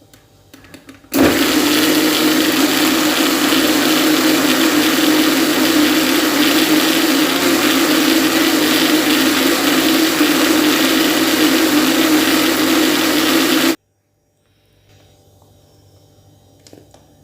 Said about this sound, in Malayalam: ഇനി ഇത് മിക്സിയുടെ ജാറിലേക്കിട്ട് പ്യൂരി ആക്കി എടുക്കാം